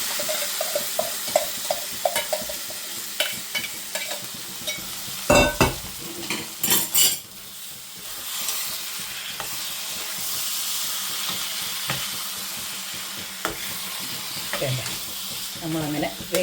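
Jackfruit mock-beef curry stirred while frying in a pan: a bright steady sizzle with repeated spoon scrapes and clinks, one louder clatter midway, and a faint voice in the background.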